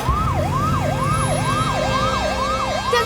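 Ambulance siren wailing steadily in a cycling up-and-down sweep over a low rumble of traffic, loud and continuous throughout with no voices.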